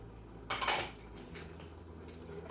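A spoon scraping and clinking against a pot while spices are stirred into homemade ketchup, one brief metallic clatter followed by faint quiet scrapes, close and without talk.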